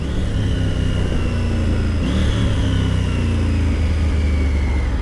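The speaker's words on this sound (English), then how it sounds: "Certainly not that quick shifter and blipper." Steady, loud engine drone of a Triumph Tiger 900 motorcycle on the move, with a brief pitch jump midway as a gear is shifted using the quick shifter and blipper, then the engine note carries on and slowly falls.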